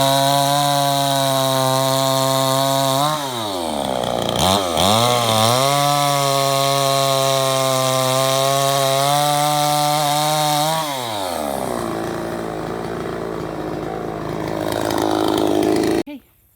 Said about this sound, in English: we've cut up all the logs that Meyer brought